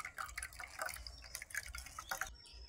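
Cold bael fruit sherbet is strained through a sieve, a quick run of close drips and small liquid splashes trickling unevenly, alone for a couple of seconds before it stops.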